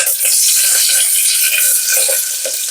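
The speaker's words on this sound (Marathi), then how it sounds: "मोहरी तरतरली की त्यामध्ये टाकायची" Mustard and cumin seeds spluttering in hot oil, a loud close sizzle crackling with quick popping bursts throughout.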